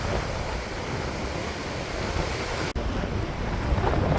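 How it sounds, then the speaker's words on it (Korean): Strong wind drives high sea waves onto a beach near Eulwangni, a steady roar of surf and gusting wind buffeting the microphone throughout, loud and close, with one brief dropout near the end. "바다 쪽으로 좀 더 내려가니 강한 바람의 영향으로 파도가 한층 높아졌습니다."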